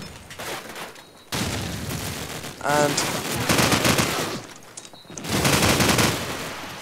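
Bursts of video game gunfire, including a wall bang shot in a competitive match, come as rapid loud volleys with a caster talking over the action.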